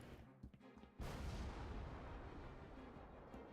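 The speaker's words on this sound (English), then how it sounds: "And it still has like a distant explosion sound when I'm far away from it." A distant trip mine explosion in a Halo 3 mod erupts as a sudden low boom after a second of quiet, then rolls on as a long rumbling tail that fades slowly.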